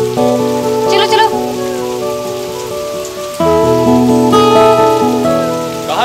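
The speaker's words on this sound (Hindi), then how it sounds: "बारिश हो रही है।" Constant rainfall hisses in the background while prominent music plays over it, the drizzle steady from start to finish.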